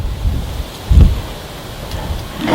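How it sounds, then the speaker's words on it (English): Wind gusts across an Irish country cemetery in County Tipperary, producing low buffeting rumbles and rustling in short irregular bursts, moderately loud and close, with no talking. "it's getting a bit windy here too."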